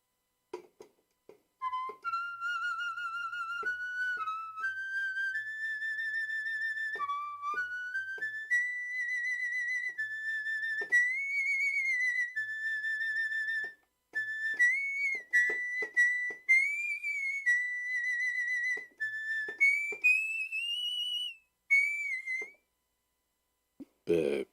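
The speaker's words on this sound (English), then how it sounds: "Indian flute, yes." A sampled Indian flute plays a melodic line within an electronic piece in odd meter, its breathy, whistle-like notes sliding between pitches in phrases with short gaps, loud and clear throughout.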